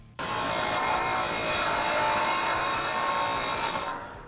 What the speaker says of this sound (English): We're going to go over with our belt sander and clean up the edges.